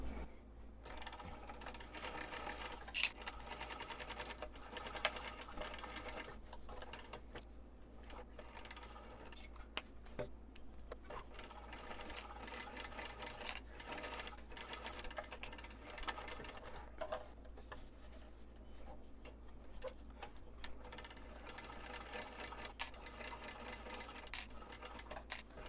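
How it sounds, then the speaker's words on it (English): A sewing machine stitches a seam on a wristlet, with back stitching at both ends. Quiet, close mechanical whirring comes in runs with brief pauses between them, and no one speaks. "I'm going to back stitch at the beginning and the end of the seam."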